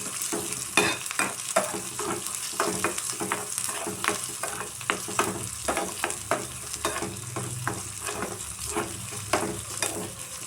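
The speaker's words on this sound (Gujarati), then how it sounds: "આપણે આમાં ડુંગળી, આદુ, લીમડો અને મરચાંની કટકી એટલું આપણે વઘારમાં નાખ્યું છે અને રાઈ ને જીરું." A tempering of onion, ginger, curry leaves, chilli pieces, mustard seeds and cumin sizzles in hot oil for dosa batter. The soft, steady frying hiss is broken by repeated sharp stirring clicks, and no one speaks.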